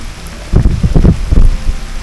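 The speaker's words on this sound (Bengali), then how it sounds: "খুব বৃষ্টি নামছে মাশাআল্লাহ।" Heavy rain pouring down at an outdoor fishing spot at a zoo in Dhaka, a loud dense patter that swells suddenly and keeps drumming close by.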